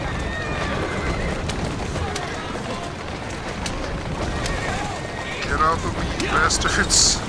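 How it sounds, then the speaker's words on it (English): Whinnies from a horse pulling a cart in Assassin's Creed Syndicate rise over steady game ambience and hoofbeats, with a louder burst of neighing near the end. "what is wrong with this horse?"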